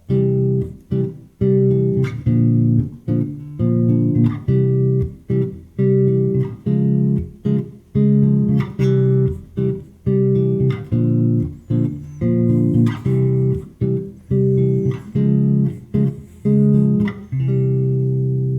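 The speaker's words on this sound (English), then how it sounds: "a quick little chordal part outlining some simple major" A bass guitar plays rhythmic, plucked major triad chords in short repeated bursts, each chord ringing briefly before the next, steady and clear with no voices.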